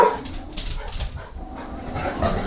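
A dog whimpers and whines softly, with a few thin yelps over a muffled, noisy background.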